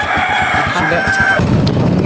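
A voice imitates a rooster's crow with a drawn-out call over a steady rhythmic thumping at a Christmas party, then a rougher burst of noise.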